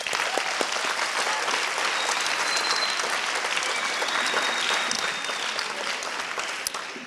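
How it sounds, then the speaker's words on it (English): Sustained applause from an auditorium audience at a student debate event, dense steady clapping that holds evenly for several seconds before easing slightly at the end. "Let's give them one round of applause."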